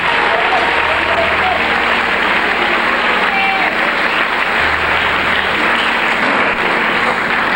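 A congregation claps at a church service, a loud, continuous wash of many hands clapping that fills the space without pause, with a steady low hum beneath it.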